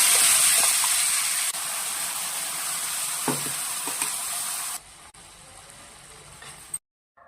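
Ground onion chutney paste tipped into a hot pan sizzles loudly with a bright, steady spitting hiss that holds for several seconds, then drops away abruptly.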